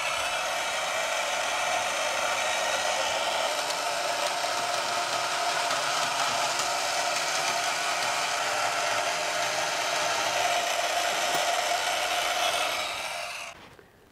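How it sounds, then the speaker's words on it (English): A power saw cuts through a steel piece for an airboat radiator support, a steady loud grinding whine running unbroken for about thirteen seconds before stopping abruptly near the end. "Now all we gotta do is cut that out of steel."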